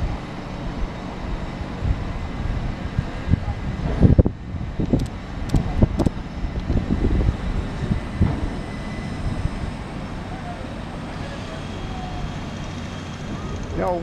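National Rail trains running on the slow lines, heard from a windy bridge: a steady low rumble and rattle with gusting wind buffeting the microphone and a few sharp clanks.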